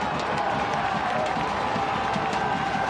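A stadium crowd roars steadily at a Sacramento Republic FC versus Orange County SC soccer match, producing a dense, loud, continuous wash of cheering with no pauses.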